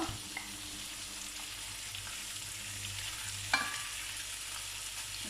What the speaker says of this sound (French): dès que ça commence à chauffer, on rajoute les oignons